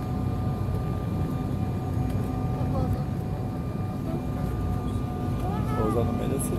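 Steady, loud cabin roar of an airliner landing at Porto Alegre, a constant engine and wind drone with faint tonal whine, heard from inside without pause.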